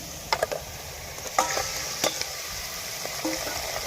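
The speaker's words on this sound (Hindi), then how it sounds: "अब चिकन को भी हम गोल्डन कर लेंगे और जो प्याज रह गया था वो भी साथ साथ गोल्डन होता रहेगा।" Chicken and onions frying in a karahi: a steady hot sizzle broken by a few sharp scrapes and clicks as the pieces are stirred.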